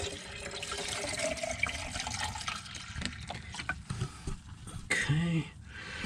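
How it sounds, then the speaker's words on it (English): Antifreeze poured from a jug into a boat's open through-hull intakes during a haulout, a steady close liquid pour and gurgle with brief glugging and a few handling knocks, no talk. "And then I'm going to pour some antifreeze in both of these."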